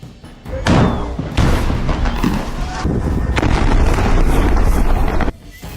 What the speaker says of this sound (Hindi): अब इजरायल दक्षिणी गाजा में भी रफा क्रॉसिंग और खान यूनुस पर भयंकर बमबारी कर रहा है